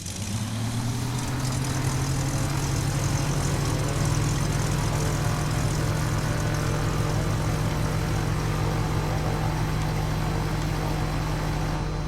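Carenado M20R Ovation piston engine in Microsoft Flight Simulator, a loud steady droning hum with propeller rumble running continuously, already at idle with no pauses.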